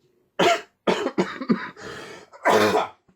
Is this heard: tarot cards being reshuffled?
no